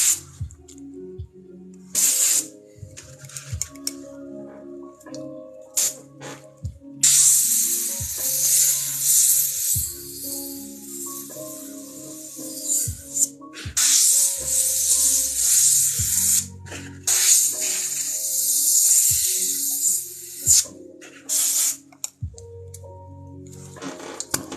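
Spray paint hisses in repeated bursts onto four different-colored hats being painted, each spray loud and bright, separated by brief pauses filled with quiet handling clatter.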